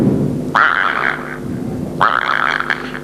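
A performer on a comic stage show imitates a small frog, giving two separate nasal, bouncy croaks about a second and a half apart, fairly loud and close.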